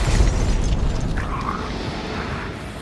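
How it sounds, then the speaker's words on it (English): Grenade blast in the Hunt: Showdown video game, a heavy low boom at the start that rolls off into a long rumbling tail with some scattered debris clatter. "I'm throwing a grenade in."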